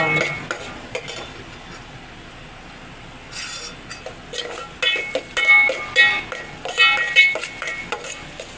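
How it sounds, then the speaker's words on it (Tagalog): Sardines sautéing in a pan for a miswa dish: sizzling with frequent stirring clatter and utensil knocks against the pan, busier and louder in the second half. "Nagigisa din po natin ang sardinas."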